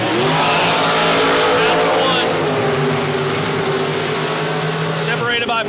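A loud race car engine drones at a steady high pitch, shifting tone midway, with an announcer talking over the roar at a drag racing event.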